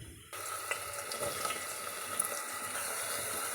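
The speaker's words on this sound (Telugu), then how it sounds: "ఇప్పుడు కట్ చేసిన ఆనియన్స్ కూడా వేసుకుందాం." Chopped onions dropped into a hot pan of oil and cumin seeds, breaking into a steady, close hiss of sizzling with crackles, continuing evenly to the end.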